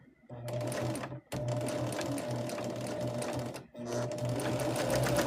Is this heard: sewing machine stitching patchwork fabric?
yes